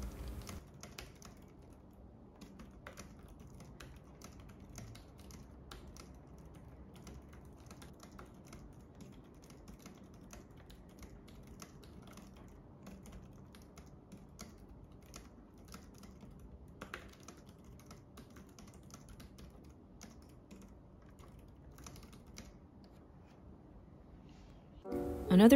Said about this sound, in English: So here are some typing sounds and at the same time a typing test.